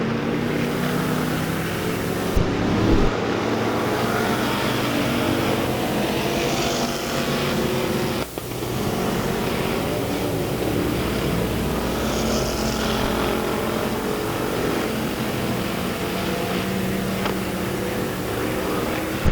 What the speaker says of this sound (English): We got a car engine.